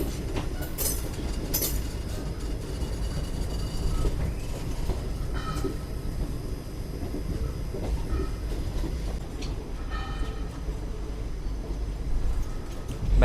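A Cherlapalli to Chennai Central superfast express runs steadily, a loud continuous rumble of wheels on rails with occasional clacks and faint squeals, heard from on board.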